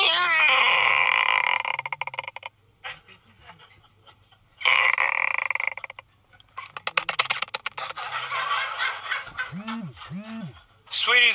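A parrot squawks and screeches in loud, harsh bursts separated by short pauses, ending with rising and falling whistle-like calls, close by.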